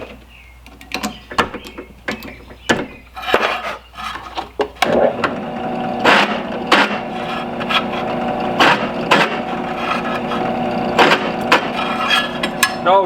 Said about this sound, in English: I just put a larger drill bit in my drill press